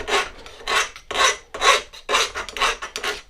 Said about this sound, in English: just going to take a round file